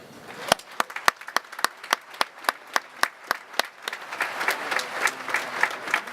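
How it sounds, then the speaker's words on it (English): Clapping for the color guard at a US Navy ship ceremony aboard USNS Hershel "Woody" Williams starts as a few sharp, evenly spaced claps from one pair of hands, then builds into a denser crowd applause. "So how about a big round of applause for our color guard?"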